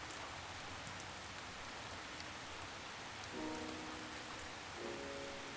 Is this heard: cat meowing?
no